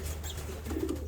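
A pigeon, likely a hen, coos softly up close, a low throaty burble repeating in short pulses over a faint background hiss.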